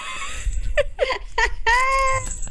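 Cats meow several times in close, distinct calls, a short series of drawn-out mews recorded near the microphone in a quiet indoor room.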